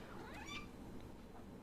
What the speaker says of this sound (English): that's my cat in the back.